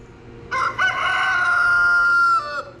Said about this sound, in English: oh, you darn birds